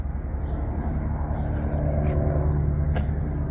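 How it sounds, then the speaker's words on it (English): Steady low rumble of passing street traffic beside the Albuquerque Rose Society Gardens, continuous and fairly loud, with faint high bird chirps above it. "in between the traffic noise"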